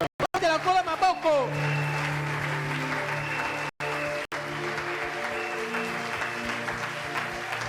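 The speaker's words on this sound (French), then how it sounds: "Tu acclames pour le Seigneur" A church congregation claps and cheers in praise of the Lord, steady loud applause filling the space, with a voice briefly heard at the start and short breaks in the sound.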